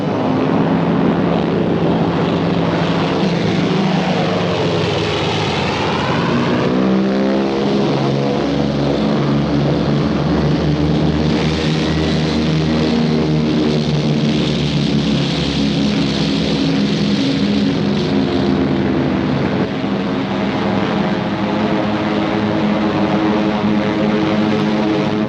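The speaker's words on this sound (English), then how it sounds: "they would send their bombers to blast it from the face of the earth." Japanese WWII propeller bombers fly overhead in a 1943 documentary, a loud, sustained droning engine roar that swells and shifts in pitch as the planes pass, with no voices.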